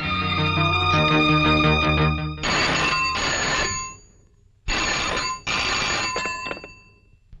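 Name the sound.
telephone ringing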